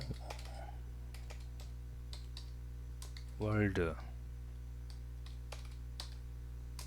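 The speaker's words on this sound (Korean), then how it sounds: "자, 이렇게 제가 타이핑을 했습니다." Keyboard typing clicks tap out in short irregular bursts, with a brief spoken word partway through and a low electrical hum underneath.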